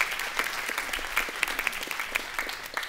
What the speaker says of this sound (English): if you can just hold your applause for a second